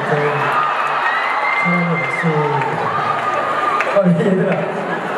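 An audience at a ceremony claps and cheers, a continuous crowd wash running beneath someone speaking loudly over it.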